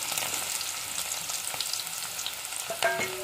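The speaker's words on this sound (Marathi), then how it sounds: "सो आता इकडे तेल तापलेलं आहे आणि पहिलं तर फोडणीचा कांदा भाजून घेऊया." Sliced onion fries in heated oil for a Marathi-style tempering in a home kitchen, giving a steady close crackling sizzle with occasional sharper pops and no speech.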